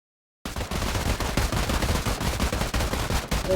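Rapid gunfire erupts suddenly after a brief silence during a tactical firing drill, a dense run of loud, sharp shots continuing steadily to the end.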